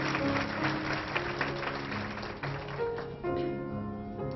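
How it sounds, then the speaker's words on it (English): Audience at a charity fashion show applauds a model on her first walk. Scattered, moderate clapping comes early, then fades while steady tonal music carries on underneath. "So give her a little applause first time out"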